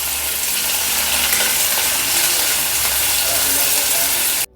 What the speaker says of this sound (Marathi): एकदम लो फ्लेमवर हे फ्राय करून घेऊया.